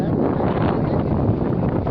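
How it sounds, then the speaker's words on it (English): Strong, cold wind blowing at the Portland coast where big waves form, a steady loud roaring rush buffeting the microphone without pause, filling the clip with dense broadband noise. "it's really windy and cold"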